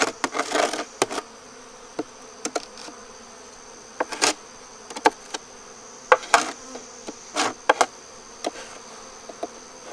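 Honey bees buzz steadily in the background around a hive invaded by hive beetles, while sharp clicks and brief bursts of buzzing come and go, close by.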